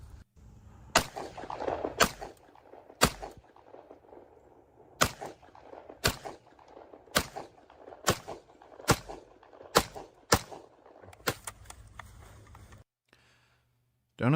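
A gun fires a string of separate, sharp reports, about a dozen shots in a quick uneven rhythm. They play back thinly from a video under a low background murmur and stop before a short silence.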